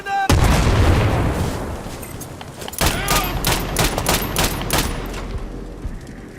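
Gunshots in a video game: a loud boom opens, then a rapid string of sharp, close shots fires in a quick, uneven rhythm over a low rumble.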